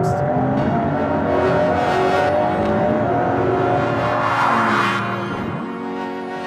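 A car exits a curve fast and slightly sideways on a test track under traction control, its engine revving loud and close with a steady roar that shifts pitch, tyres working hard, fading slightly at the end.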